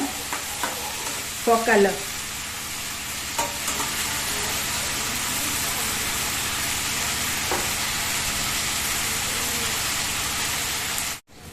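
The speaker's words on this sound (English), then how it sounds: "Keep on stir frying for another 2 to 3 minutes" Arbi with basil leaves stir fries in a pan, giving a steady, close sizzle throughout with a few scraping stirs near the start, and a brief spoken phrase.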